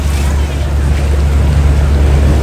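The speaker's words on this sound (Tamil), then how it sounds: "இப்போ எனக்கு நெடுந்தீவுக்கான படகு வந்து இப்போ வெளிக்கிட்டுது" A passenger boat leaves for Neduntheevu on a windy sea, with a loud steady engine drone and heavy wind and wave roar buffeting the microphone throughout.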